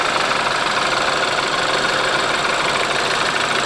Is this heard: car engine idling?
yes